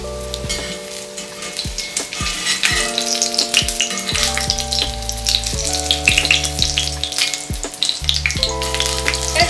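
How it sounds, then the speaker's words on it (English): Chicken schnitzel crackles and sizzles steadily in hot frying oil, a loud continuous bubbling hiss with a few sharper pops, and a constant low hum runs underneath. "we fry on each side for a few minutes until golden brown"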